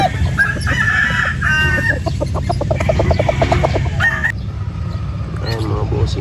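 Golden Boy gamefowl on a farm clucking and crowing close by, with rapid repeated clucks in the middle and a rooster call, over a steady background murmur.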